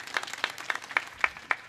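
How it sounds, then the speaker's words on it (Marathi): Sparse applause at a kirtan gathering: six separate, evenly spaced claps ring out sharply at moderate volume in a quiet hall, rather like a small group clapping in unison. "एकदा त्यांच्या नावाने जोरदार टाळी वाजवा"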